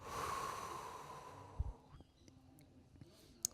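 A group of people exhales together during a guided breathing exercise at a talk, a broad airy whoosh that fades out, followed by a couple of soft sniffs.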